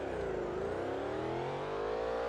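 A Ford GT Concept engine in Gran Turismo 4 revs hard and accelerates, its pitch climbing steadily in a loud, continuous roar with a synthetic, game-like quality.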